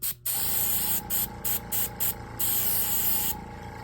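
A spray gun hisses as it lays a second paint coat on a car paint chip repair, with a steady near blast broken by several short bursts and brief pauses.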